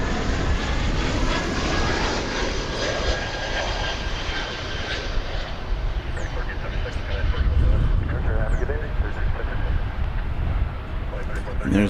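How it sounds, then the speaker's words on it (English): A Boeing 787 Dreamliner jet lifts off from the east side of DFW Airport, a steady broadband engine roar filling the whole stretch, with someone talking over it. "That is the Dreamliner off to Shanghai. That just lifted off from the east side"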